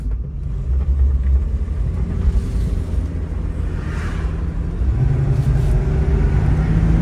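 A 1983 Ford Mustang GLX convertible, original and low-mileage, drives with a steady low engine rumble and road noise, and the engine note deepens as it pulls through a gear change partway through.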